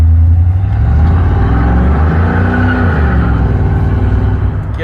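A beater car engine revs hard for a burnout, a loud, steady high-RPM roar with slight wavering pitch and no one speaking over it.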